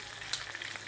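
Beef in black pepper sauce with oyster sauce sizzles in a pan while being stirred, a steady close hiss of frying with small crackles and a scrape.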